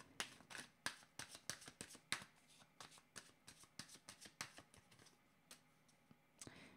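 Oracle cards are shuffled for a reading, giving a quick series of soft, close riffling and flapping bursts in an uneven rhythm, all fairly quiet with no talking.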